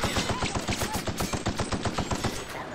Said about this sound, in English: That was some very poor shooting.